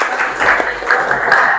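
Students in a classroom clap a quick rhythmic concentration pattern, tepuk konsentrasi, in short close bursts with voices mixed in.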